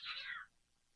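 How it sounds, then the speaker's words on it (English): A stray cat gives a single short meow, clear and fairly close, then quiet. "we got some stray cats that hang out"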